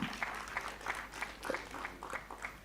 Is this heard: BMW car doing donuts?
no